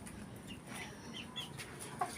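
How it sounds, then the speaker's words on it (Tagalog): Chickens on a rice farm cluck softly and intermittently at a distance, faint against quiet outdoor background noise, with a brief sharper cluck near the end. "Dami siyang mga manok dito."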